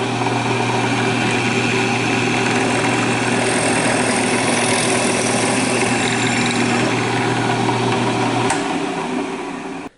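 A drill press runs with a steady motor hum and a constant low tone, loud and unbroken, until it cuts off near the end and spins down.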